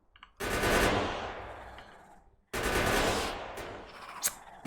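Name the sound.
gun turret firing in video game Factorio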